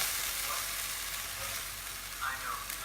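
Beef browning over really high heat in a pan gives a loud, continuous close sizzle with a few brief stirring scrapes and no talking.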